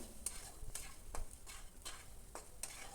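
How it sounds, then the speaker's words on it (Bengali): Eggs being stirred into spices frying in oil in a pan, with a few sharp spatula scrapes at steady intervals over a soft, continuous sizzle, close and fairly quiet, no voices. "তেলের সাথে মশলাগুলো কষিয়ে নিয়ে এর মধ্যে আমি ডিমগুলো দিয়ে দেবো ডিমগুলো দিয়ে একটু নাড়াচাড়া করে নেব"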